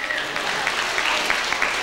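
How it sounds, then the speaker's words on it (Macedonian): Sustained audience applause at a 1996 Ilinden Days Macedonian community celebration in Hurstville, Sydney, a dense, steady wash of many hands clapping throughout. "Аплаузи до членовите на Друштвото Керда од Сиднеј."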